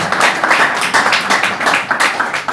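Sustained applause from a crowd, dense rapid clapping with some cheering mixed in, steady and loud throughout.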